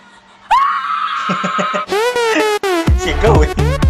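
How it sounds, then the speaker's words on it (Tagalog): A shrill, sustained scream from a client during a hair treatment, followed by rapid wavering cries and mixed laughter, loud and close. "Sigaw eh."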